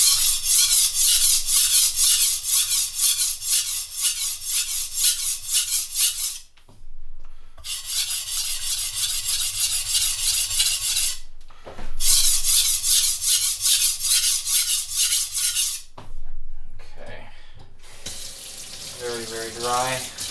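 A chef's knife scrapes back and forth on a coarse sharpening stone in quick, rhythmic rasping strokes, in three long runs separated by short pauses, followed by a brief gurgle of water.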